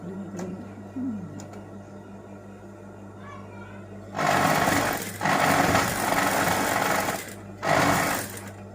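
A sewing machine whirs loudly in several bursts of a few seconds each, after a quieter stretch with faint background hum.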